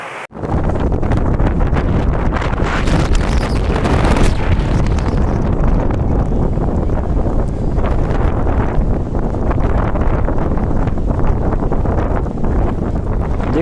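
Strong wind from a sudden storm in Manipur near a river, roaring and buffeting the microphone in a loud, continuous rush with no voices.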